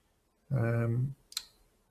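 A single sharp mouse click sounds in Google Calendar settings, coming just after a brief voiced murmur, then fading into quiet.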